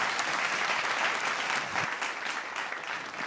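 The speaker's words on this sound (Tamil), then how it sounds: "கை தட்டிடுங்க எல்லாரும்." Audience applause for finalists at a televised pitch competition stage show, sustained dense clapping at moderate loudness that slowly tapers toward the end.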